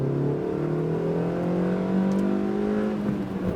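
A 2008 Suzuki Swift Sport with a lightened flywheel revs steadily in third gear, its engine tone climbing smoothly and loudly with no talk over it.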